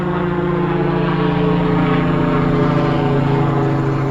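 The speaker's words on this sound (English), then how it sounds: "seem to get all the helicopters today" A helicopter flying overhead, its engine and rotor drone giving a steady, loud, continuous whir that holds at an even level throughout, heard alone without voices.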